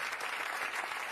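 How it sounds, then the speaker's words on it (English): Studio audience applause on a daytime talk show, a steady dense wash of clapping throughout with no voices over it. "Give him a round of applause."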